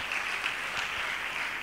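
Quiet, steady clapping from a congregation during a Telugu Christian sermon, a soft continuous patter of many hands heard at a distance, without speech.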